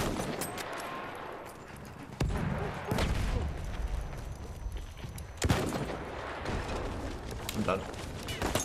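Gunfire in Battlefield 1, played in the French DLC: a rapid crackle of rifle and machine-gun shots with sharp louder bursts cutting through, all under a player talking.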